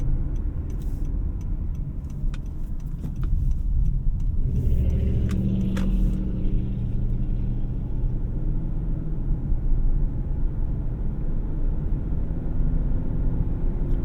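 Steady low road rumble and faint tire hum inside the cabin of a 2024 Honda CR-V Sport-L Hybrid, a quiet, well-insulated interior; continuous and even throughout, with a few faint ticks and no talking.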